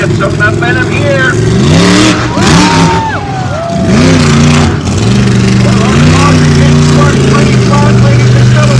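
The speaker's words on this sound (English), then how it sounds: "Let's see what the Killer Bee can do here." The Killer Bee monster truck's engine revs at a Riverhead Raceway show, loud rising and falling roars that repeat through the clip while an announcer talks over the crowd noise.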